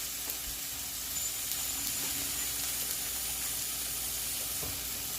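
A 4 to 5 ounce ground beef burger patty fries in a hot pan, giving a steady, even sizzle and crackle at close range, with no talk over it.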